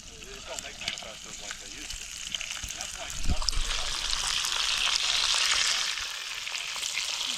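Fresh bacon frying over an open fire outdoors, a steady crackling sizzle that swells midway, with a soft thump and quiet voices underneath.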